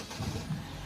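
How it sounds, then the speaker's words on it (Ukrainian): A car engine turns over and catches, settling into a steady low idle rumble. "Машинка запустилась."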